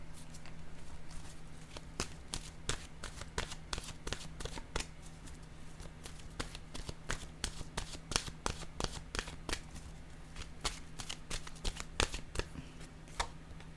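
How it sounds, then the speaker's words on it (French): A deck of oracle cards is shuffled by hand, producing a long run of quick, crisp riffling snaps in an irregular rhythm, close and fairly quiet, over a faint steady hum. "allons-y avec une carte maintenant de mon oracle de l'âme intuitive"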